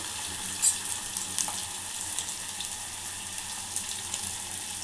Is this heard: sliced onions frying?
yes